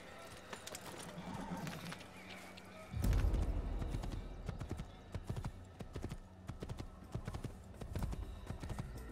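Horse hooves clip-clop steadily at a walk in the Assassin's Creed game set in Damascus, with a brief neigh and a person talking over the hoofbeats.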